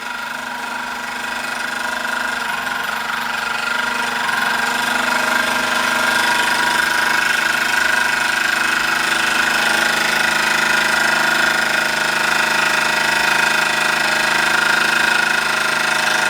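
A Hobbies SE1 model steam engine, nearly 80 years old and freshly oiled, runs with a loud, steady, rapid chugging that continues unbroken throughout.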